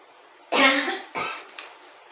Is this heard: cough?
yes